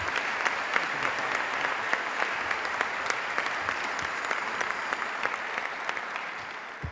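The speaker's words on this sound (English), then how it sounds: "how about a nice round of applause" A large audience at a Providence College announcement event applauds steadily and fairly loudly, dense clapping holding at an even level without pause.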